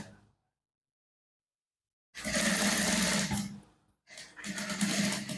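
Domestic sewing machine stitching along a replacement zip on men's trousers, running in two loud, steady bursts with a short pause between, after a long stretch of silence.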